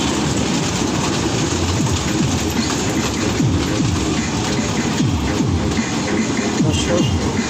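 A children's motorcycle train ride at Rajshahi Zoo rumbles past up close, loud and steady, with a rhythmic clattering of wheels throughout.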